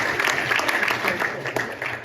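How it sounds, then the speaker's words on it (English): An audience at a clean comedy show in Mesa breaks into brief applause, a dense wash of clapping from the crowd with a voice talking over it. "Give yourself a round of applause"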